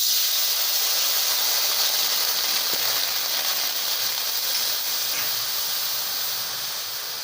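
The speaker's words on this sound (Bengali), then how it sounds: "এখন কড়াই দিয়ে দেব অল্প পরিমাণ জল" Water poured into a hot kadai gives a loud, steady steam hiss that fills the whole span and fades slightly toward the end, close by and with no voices.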